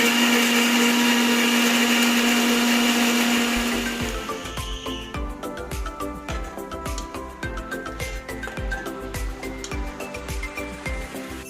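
A kitchen blender grinds chopped tomatoes into a paste, starting with a loud, steady motor whine. After about four seconds it gives way to rapid rhythmic chopping pulses as the blades churn the mixture.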